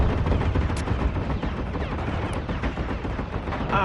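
Drone gunfire in the survival game Helios Underground Survival, near a derelict farm: a dense, steady stream of rapid shots that runs unbroken through the whole stretch at moderate loudness.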